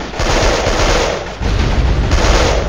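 Explosions and rapid gunfire fill a firefight in Delta Force: Black Hawk Down, loud and continuous, with dense overlapping bursts and booms throughout.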